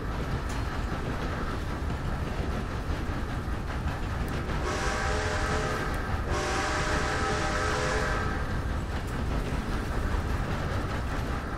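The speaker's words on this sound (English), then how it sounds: "I'm just going to take this train and see how far I can get." A train in the online Western video game Red Dead Online rumbles steadily along the tracks, with a loud whistle blast sounding twice in the middle over the continuous rolling noise.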